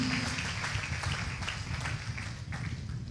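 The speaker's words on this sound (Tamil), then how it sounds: "கைதட்டு கொடுங்க சந்தோஷமா" A church congregation claps together in a steady, dense roll of applause that fills the whole moment at an even level.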